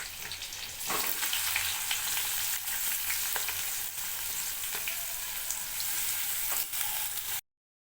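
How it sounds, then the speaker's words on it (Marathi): Mustard seeds, cumin, garlic and onion fry in oil in a wok, giving a continuous close sizzle with light popping and occasional stirring scrapes before it cuts off abruptly. "इथे कढईत तेल घालून त्यामध्ये मोहरी व जिरे टाकून घेऊया त्यामध्ये लसूण घालून घ्यायचं कापलेला कांदा"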